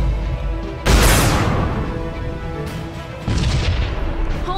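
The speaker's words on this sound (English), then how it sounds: "cannons fire!" Starship cannons fire in the Sunrider space-combat video game, a loud booming blast followed by a long rumbling decay, then a second heavy burst about two seconds later.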